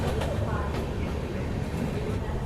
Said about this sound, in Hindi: यहाँ पे हमारी ट्रेन का हॉल्ट है।